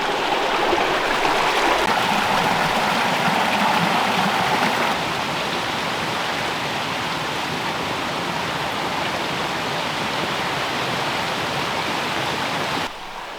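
A highland brook rushes steadily over rocks, a close, dense wash of flowing water that drops somewhat in level partway through and continues evenly, with no talking.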